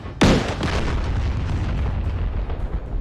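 A single heavy boom of enemy fire erupts in a DCS combined arms tank battle, a sharp blast followed by a long low rumbling roll that lingers for seconds, with no talk.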